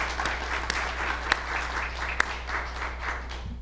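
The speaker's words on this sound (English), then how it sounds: "let's give Kathy a round of applause." A gala crowd claps steadily for an honoree, a continuous wash of applause at moderate distance with a few sharper individual claps standing out over a low hum.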